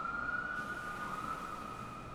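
A police siren wails steadily at a distance, holding a fairly constant tone under low background noise for a couple of seconds.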